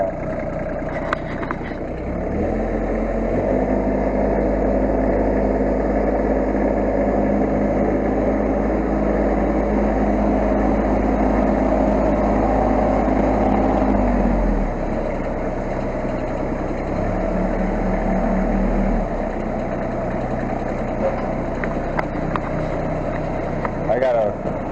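A 1526 tractor's diesel engine idles with a steady, close, low rumble that rises briefly in pitch under load before settling back to a lower idle.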